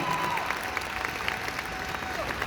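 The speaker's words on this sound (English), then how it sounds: "Give them a round of applause." Audience applause at a fan convention Q&A, a dense wash of clapping that holds steady throughout, with a faint tone running beneath it.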